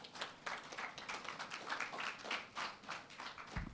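Faint, distant audience applause follows a speech at a STEM festival launch event, a thin patter of clapping that holds steady for a few seconds.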